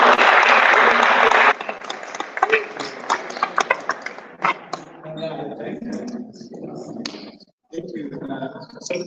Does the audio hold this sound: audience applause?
yes